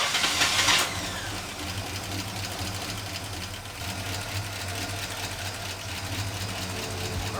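A Chevrolet C10 truck engine cranks briefly and catches on the first try, then settles into a steady, fairly loud mid-pitched idle that runs on alone without talk.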